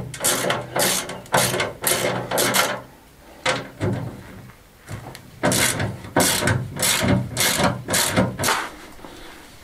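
A hand ratchet backs off the cover bolts on a faulty generator in short, close, repeated bursts of rapid clicking, separated by brief pauses.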